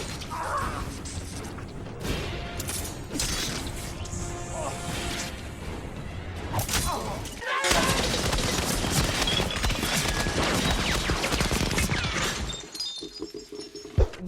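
Film squib effects firing in sequence: bullet hits, blood hits, dust bursts and wall hits, heard as dense bursts of cracks, shattering and debris with a sustained stretch of rapid impacts in the middle, then a few sharper isolated pops at the end.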